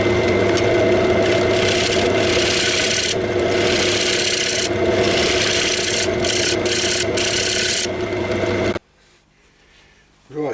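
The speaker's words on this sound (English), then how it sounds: "using the side as a scraper is definitely the way to go" A woodturning scraper cuts tulipwood on a lathe with a continuous loud rasping, rubbing hiss over the machine's hum, broken by brief pauses, then stops abruptly, leaving a quiet motor drone.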